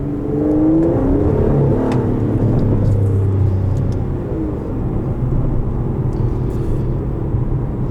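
Twin-turbo V12 of an Aston Martin DB11 AMR pulling hard under acceleration, a loud, steady low rumble with rising harmonic whine filling the whole stretch, close-up from inside the car.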